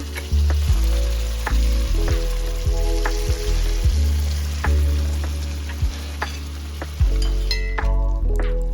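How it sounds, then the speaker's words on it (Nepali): Cooked mixed sprouted beans sizzle steadily in hot oil, interrupted by repeated scraping stirs at a slow, regular rhythm, while making Nepali kwati soup. "अब यसमा म अघि कुक गरेर राखेको गेडागुडी चाहिँ हाल्दैछु"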